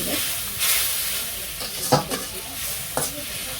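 Meat curry sautéing in a pan after water is added, heard as a soft continuous sizzle with a few distinct scrapes and clinks of a spatula, close by and without talk.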